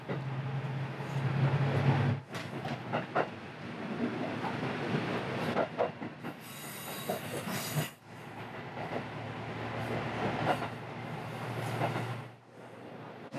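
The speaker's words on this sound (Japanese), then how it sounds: "亀山行きの普通列車も駅を出発です" A local train on the Kansai Main Line in Japan rolls out of a station, a steady rumble of wheels and motor with a brief squeal and clatter partway through, heard from inside the carriage.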